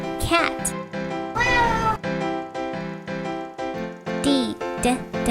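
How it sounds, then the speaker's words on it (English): A cat meows over a steady musical backing, with several clear, loud meow calls rising and falling across the stretch, set within a phonics letter-sound lesson for children. "cat."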